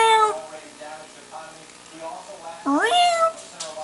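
A pet cat in a cat tree at home lets out a couple of short, rising meows close by, with a person's voice also present.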